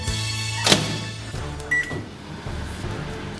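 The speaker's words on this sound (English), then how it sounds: "put our white chocolate into the microwave on 30-second bursts" A microwave oven melting white chocolate in 30-second bursts runs with a steady low electrical hum close by, punctuated by a sharp click and a brief high beep, with no voices.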